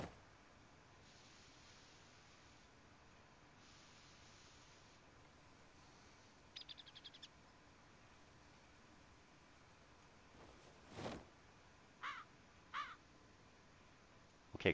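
Several crow caws from the video game PZ Life 2, sounding as a few short, separate calls in the second half over a faint, steady ambient hiss, fairly distant and quiet.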